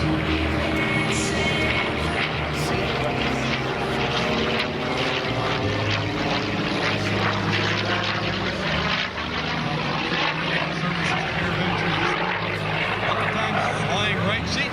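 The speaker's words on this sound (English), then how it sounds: "the DC-3, hauling our skydivers to the sky." A DC-3 propeller airplane carrying skydivers at the Oshkosh AirVenture airshow drones steadily and loudly for the whole stretch, its engine hum continuous with crowd and wind noise mixed in.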